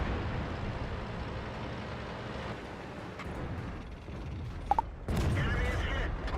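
Tank cannon fire in World of Tanks, with a Leo PTA shooting at a T-20: sharp blasts at mid-clip followed by a loud, sustained roar over a steady mechanical engine rumble.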